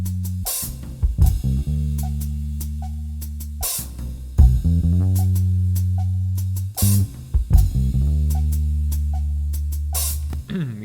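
A soulful hip-hop beat built in Ableton, with deep sustained bass notes under punchy drum hits in a slow, looping groove, alone without voices.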